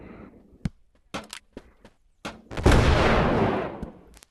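Consumer fireworks going off outdoors: a few sharp separate cracks and pops, then one loud burst that rushes into a long, fading crackle and hiss close by.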